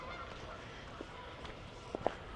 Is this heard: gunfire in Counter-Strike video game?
no